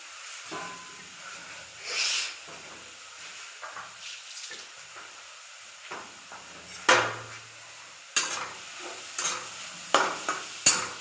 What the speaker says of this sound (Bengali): এবার আমি ফুলকপিটাকে ফ্রাই করে নেব তেলে